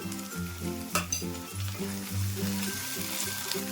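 Ginger garlic paste and tomato puree frying in a pan, a steady close sizzle with a few brief stirring clinks.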